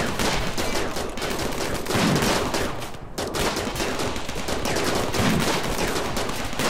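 Defensive turrets in the Rimworld video game fire in a rapid, continuous stream of gunshots, a dense steady fusillade with a brief dip around the middle, loud and without any speech.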